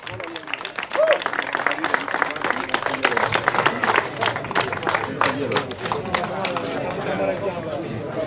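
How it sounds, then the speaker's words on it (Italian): A crowd at an enduro race awards ceremony in Castrovillari claps for the Puglia overall winner, with sharp scattered hand claps and voices chattering loudly over the applause. "Ma un applauso gli avete fatto"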